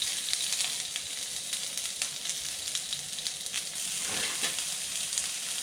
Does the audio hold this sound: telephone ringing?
no